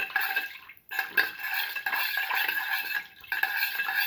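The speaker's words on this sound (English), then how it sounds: "Thoroughly mix in all the ingredients with the breadfruit mixture." Salt being stirred into a breadfruit omelette mixture in a bowl, a steady run of scraping and soft clinking from a utensil with brief pauses, close and moderately loud.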